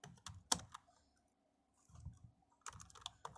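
Typing on a computer keyboard while writing text in MS Word: quiet, close key clicks in quick bursts separated by a short pause, with no talk.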